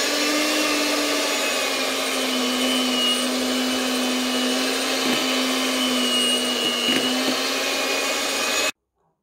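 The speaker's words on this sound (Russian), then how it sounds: "масло я соединила со сгущенным какао, и сейчас будем взбивать это в крем" A steady electric mixer whirs loudly for several seconds whipping butter with cocoa condensed milk into cream, its motor tone dipping slightly as it churns, then cuts off abruptly.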